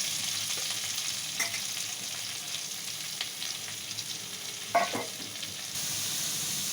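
Sliced onions, curry leaves and green chilies sizzle in a pan for a capsicum gravy curry, a steady close crackle with a few louder stirring scrapes and clatters near the end.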